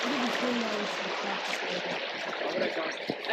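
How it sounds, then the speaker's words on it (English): Water in a Smoky Mountain stream rushes and splashes steadily over rocks, a close, constant broadband flow with no voices. "Manny, look at this water right here, baby."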